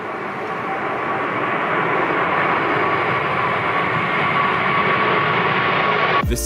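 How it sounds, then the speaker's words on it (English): An Airbus A380 taking off on a snowy runway, with a steady, loud engine roar and a faint constant whine on top that holds for several seconds before cutting off abruptly. "This A380 taking off with snow spraying behind it."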